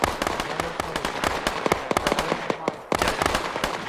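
Rapid bursts of gunfire in a military shooter game crackle sharply and loudly, shot after shot in quick irregular volleys, with a brief lull near the end before the firing picks up again.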